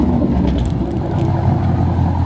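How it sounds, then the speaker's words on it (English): Ford Mustang V8 idling with a light blip of the throttle, a steady close, loud low engine rumble throughout. "Give me a little rev, a little baby rev."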